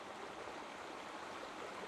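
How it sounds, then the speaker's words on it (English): Water cascading over rocks in a stream, a faint, steady rushing wash heard from some distance, continuous and alone without voices. "That's another good spot with the cascades."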